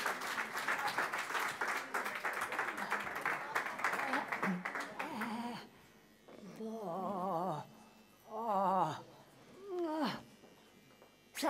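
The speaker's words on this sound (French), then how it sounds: "Mesdames, messieurs, un tonnerre d'applaudissements pour Louise Bourriffet." Audience applause for a performer, Louise Bourriffet, a dense burst of clapping for about five seconds that then cuts off, followed by short tonal whining sounds and a spoken voice.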